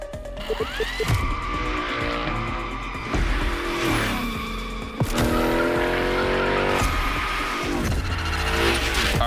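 A car in The Crew slides through Hoonigan gymkhana runs, its tires squealing in long loud wails over a roaring, revving engine, with repeated bursts as it drifts through turns.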